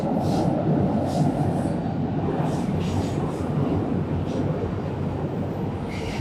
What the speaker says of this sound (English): Train coming through.